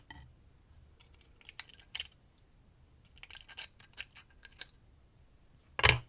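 Metal discs and plastic spacers of a La Gard 2270 safe lock are handled, giving sparse, light clicks and taps, then one sharper metallic clatter near the end.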